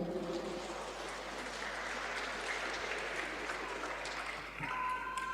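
Church congregation applauding an adult women's choir after a Sunday Mass, a sustained, even wash of many hands clapping, fairly soft and distant in a large reverberant space, continuing throughout.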